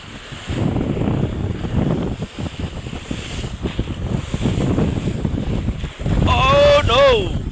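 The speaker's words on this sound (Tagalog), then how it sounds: "Malakas lang yung hangin niya." Strong wind buffets a small boat at sea, roaring steadily across the microphone alongside wave wash and engine rumble, with voices calling out near the end.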